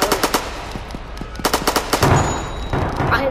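Rapid bursts of video game gunfire, an automatic weapon rattling off loud, close volleys in quick clusters with short gaps, ending in a denser crackle of shots.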